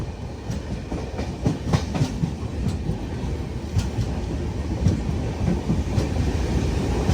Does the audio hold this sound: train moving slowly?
yes